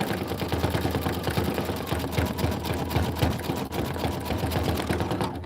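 Sewing machine stitching a quilted tiling scene over a thick, chunky spot, a loud, fast, steady mechanical chatter of the needle close up, running continuously with one brief hitch, no voices.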